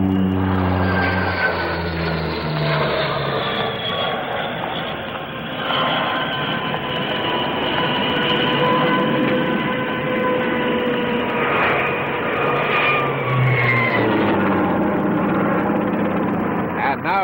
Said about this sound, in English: The Avro 748 takes off on one engine.